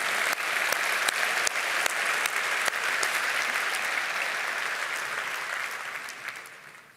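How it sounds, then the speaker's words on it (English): Large convention audience at a Rotary International gathering applauds in a dense, sustained wash of clapping that fades gradually toward the end, with no voices over it. "let's give them a rousing round of applause for their continued membership, work, and dedication"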